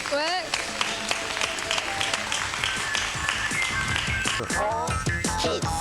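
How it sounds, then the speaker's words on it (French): TV studio audience on a 1992 French children's game show applauding the losing contestants, steady clapping blended with music and excited voices throughout, loud and continuous. "On applaudit Olivier et Sonia, les perdants."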